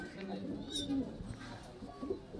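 A male Allahabadi Kalduma highflyer Giribaz pigeon gives soft, low cooing calls up close, with a faint voice and handling noises nearby.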